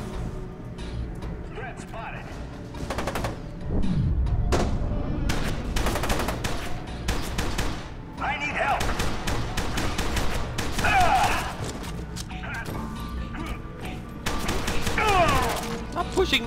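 Bursts of pistol gunfire ring out repeatedly in the shooter F.E.A.R. 2, loud sharp shots clustered in rapid volleys with crashes and thuds between them, while someone talks over the action.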